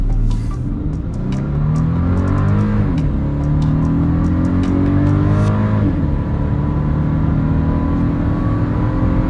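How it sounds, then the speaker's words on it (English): A 2021 VW Atlas in sport mode accelerates at full throttle, its engine climbing loudly through the revs with a brief drop at a gear change and a continuing pull, heard close with no talk. "still in the sport mode, and let's floor it for a second and see how responsive it will be."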